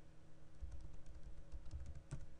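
A password typed on a computer keyboard, a quick run of soft, irregular key clicks up close in a quiet room, with a brief pause near the middle.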